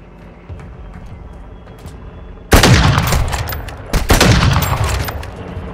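Loud bursts of gunfire in Warzone 2.0 break out after a quiet stretch, shots hitting near a money helicopter: a sharp volley, a short lull, then a second heavy burst that rolls on and fades.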